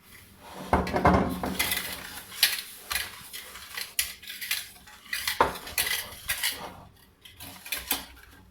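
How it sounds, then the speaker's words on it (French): A spoon whisks egg yolks with sugar and a spoonful of water in a bowl, making quick irregular metallic clinks and scrapes against the sides, close and fairly quiet, with no talking. "on va fouetter les jaunes avec le sucre et avec la cuillère à soupe d'eau"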